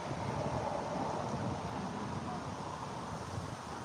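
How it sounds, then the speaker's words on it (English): Steady wind rushes and roars across the microphone without letup, a dense continuous noise with no voices. "I'm gonna let the wind blow by."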